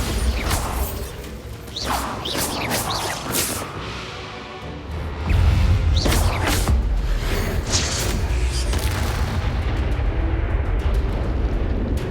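A blasting spell bursts in a Hogwarts Legacy duel, with a series of whooshes and impacts early on, then a deep, heavy booming explosion that rumbles on loudly and steadily for several seconds.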